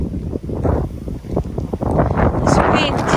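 Wind gusts across a microphone outdoors in a graveyard, a loud rumbling buffet that rises and falls unevenly and grows stronger toward the end, with a voice talking over it.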